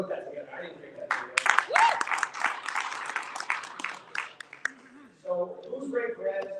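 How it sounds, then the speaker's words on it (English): Audience applause at a business mastermind speaking event, a burst of dense clapping that rises and fades over a few seconds, with voices talking before and after it. "let's give a round of applause for my team."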